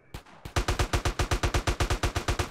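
Steady automatic gunfire rattles through a gang fight in GTA San Andreas: after a couple of isolated cracks, a rapid, evenly spaced string of loud shots runs nonstop to the end, close and uninterrupted.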